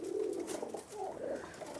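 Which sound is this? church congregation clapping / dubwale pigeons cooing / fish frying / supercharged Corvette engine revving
dubwale pigeons cooing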